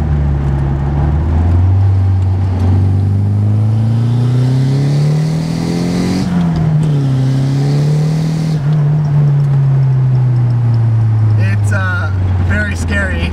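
A Nissan S14 Silvia without power steering pulls away with a loud, close engine drone that climbs in pitch, peaks, dips and holds, with a few sharp squeaks near the end.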